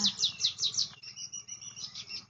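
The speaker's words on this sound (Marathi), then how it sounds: "पक्ष्यांचे आवाज" Several birds chirp in quick, repeated high tweets on a Konkan farm after rain, close and clear over a quiet background with a faint insect hum.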